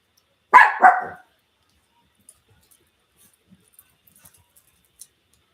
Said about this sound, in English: That's my guard dog.